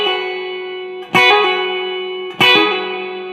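An electric-toned guitar plays a riff from a song: two picked attacks about a second apart, each followed by quick hammer-on and pull-off pitch changes, ringing clearly with no talking.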